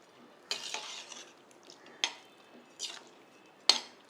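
Ingredients being stirred and mixed in a pot for bisibelebath, a few separate scraping and clinking strokes of a spoon against metal, quiet and close with pauses between.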